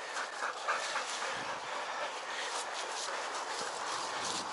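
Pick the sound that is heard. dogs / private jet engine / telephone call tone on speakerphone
dogs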